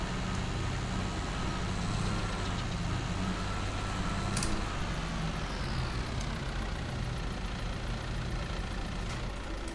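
Tractor engine in Farming Simulator 22 labouring up a steep hill, a steady loud mid-pitched drone that holds throughout with a brief higher whine partway.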